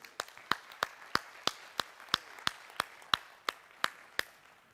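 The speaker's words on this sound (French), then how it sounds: "on les applaudit." A conference audience clapping in a steady, evenly spaced rhythm of sharp, distinct claps, about three per second, moderately loud in a quiet room.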